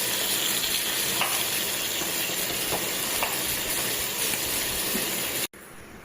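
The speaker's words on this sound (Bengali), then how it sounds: "চলো এটা লাল লাল করে ভেজে নেওয়া যাক" Crab sizzling as it fries in a pan, a steady bright hiss with a few soft pops and stirring clicks, close and continuous before a brief cut.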